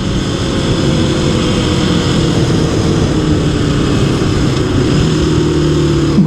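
A 2026 Kawasaki KLX300 dirt bike fitted with Race Tech springs drones steadily from the rider's position during a road test, loud and continuous, with wind rush and slight shifts in engine pitch.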